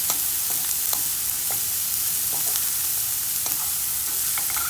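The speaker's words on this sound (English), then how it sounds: "I put olive oil in my pan, and I'm just gonna saute my onions" Onions sautéing in olive oil in a pan produce a loud, continuous sizzle with faint crackles and pops throughout, with no talking.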